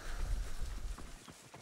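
Horse hooves clatter in a quick, steady gallop in Assassin's Creed Odyssey, the game's galloping mount heard close and fairly loud with a faint wind-like wash behind it, no voices.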